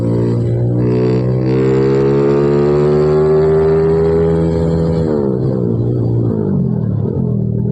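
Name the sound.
Honda Supra X 155cc motorcycle engine on a test ride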